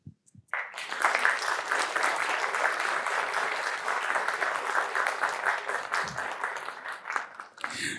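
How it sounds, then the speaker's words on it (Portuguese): Sustained applause from a large audience at an agribusiness congress in Paraná, Brazil, a dense steady wash of clapping lasting several seconds before dying away. "recebem novamente nossa salva de palmas."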